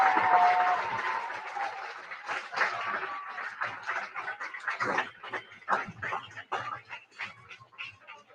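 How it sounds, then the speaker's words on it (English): Audience at an outdoor eighth-grade recognition ceremony in a stadium applauding the students, scattered clapping that starts fuller and thins into irregular claps. "Give them a round of applause."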